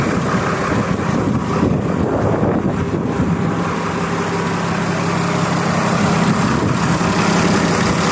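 A repaired 100-90 tractor engine runs at a steady idle right after starting, a loud continuous low rumble with a hum throughout, mixed with wind buffeting the microphone and no talking.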